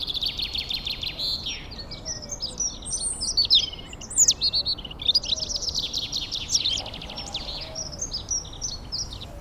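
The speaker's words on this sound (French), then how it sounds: "Des pinsons, le pinson également." Finches and a robin sing in a garden beside a house, a dense run of bright chirps and trilled phrases close by, over a faint steady background hiss and with no one speaking.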